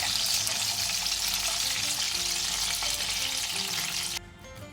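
Milkfish (bangus) frying in oil in a pan, a loud, steady close-up sizzle and crackle that runs continuously and drops off sharply near the end.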